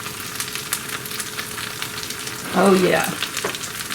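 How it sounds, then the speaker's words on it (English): Full-fat cheese sizzles and bubbles in a hot frying pan as it melts for pickles in a blanket, a steady crackle that swells louder near the end, with a brief voice speaking. "Oh, all that cheese is melting."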